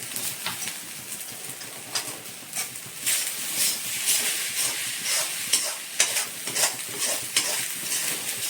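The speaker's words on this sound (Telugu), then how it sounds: "అన్నీ ఒకసారి మంచిగా మిక్స్ చేసుకోవాలి" Capsicum rice with spring onions, coriander and a squeeze of lemon juice being mixed in a pan: steady scraping and stirring over a soft background sizzle, with repeated spoon strokes close up and no talking.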